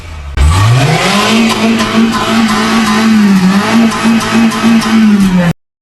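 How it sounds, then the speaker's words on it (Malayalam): A Maruti Zen car, about a year old, runs steadily with a clean exhaust note. The engine climbs in pitch and then holds a loud, even hum with small rises and dips, and it cuts off abruptly at the end. No voices are heard. "എക്സോസ്റ്റ് ഒക്കെ നല്ല രസമാണ് കേൾക്കാൻ ക്ലീൻ സൗണ്ടാ"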